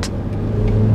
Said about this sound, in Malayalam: ശരിക്കും ആക്സലറേഷൻ നമ്മൾ ഫുൾ ത്രോട്ടിൽ കൊടുത്തു പോകുന്ന സമയത്ത് നോയ്സ് നോക്കി കേട്ടോ